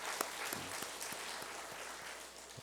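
A church congregation at a Sunday worship service applauds an elder, a soft, fairly distant patter of clapping that holds evenly for a few seconds.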